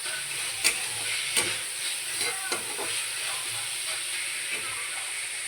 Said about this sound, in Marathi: 2 ते 3 मिनटं व्यवस्थित त्याला फ्राय करून घ्यायचं